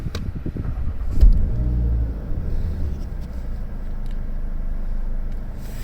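An MK7 Volkswagen Jetta GLI fitted with a COBB Accessport starts up nearby: a quick crank catches with a short surge, then the engine settles into a steady, low idle rumble.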